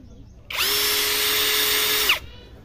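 An APR AP12+ cordless battery drill revs up on speed 1 and runs steadily at a high whine for about one and a half seconds, then winds down abruptly; close and loud with no talking.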